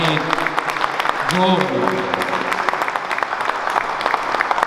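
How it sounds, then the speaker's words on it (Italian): A crowd at a political evening event applauds the police forces, a brisk, fairly close burst of clapping with a voice speaking briefly through it. "facciamo un applauso alle nostre forze dell'ordine"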